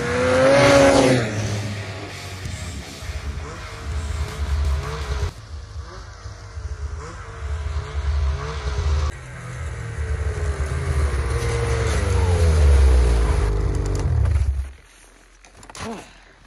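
A 2023 Ski-Doo Summit 850 snowmobile is ridden, its engine revving up and easing off in repeated surges, loud and close, before the motor sound drops away abruptly near the end.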